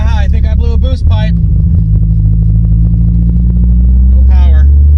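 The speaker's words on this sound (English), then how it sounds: "So in that burnout, we blew the wastegate right out of the pipe" A Ford Fox Body car's turbocharged engine roars during a burnout with a blown wastegate pipe, a loud, steady low rumble droning under brief talk near the start and the end.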